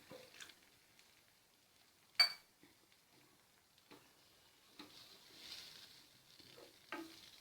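Cabbage manchurian sauce simmers in a pan, a quiet stretch of soft bubbling and gentle sizzle broken by a few sharp clicks and taps of stirring.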